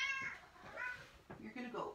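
A cat meows close by indoors, several drawn-out cries in quick succession with short gaps between them, fairly loud against an otherwise quiet room.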